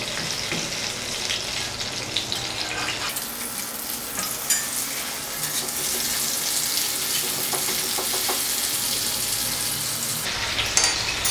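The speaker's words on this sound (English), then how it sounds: "So I'll just turn it and have a look how well it's getting fried." Mutton chops sizzling in a pan over a medium to low flame, a loud steady hiss that swells brighter midway after a brief stir, with faint clinks and no talk.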